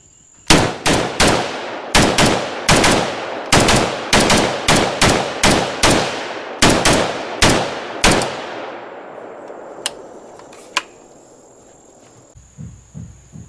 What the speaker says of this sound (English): let's pop off a few rounds